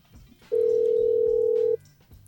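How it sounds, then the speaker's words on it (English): A telephone gives a single loud, steady electronic ring tone lasting just over a second, close and clear, right before a call is picked up in a hip-hop interview setting. "Answer the phone."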